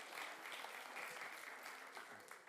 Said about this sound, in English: So a round of applause for the first winner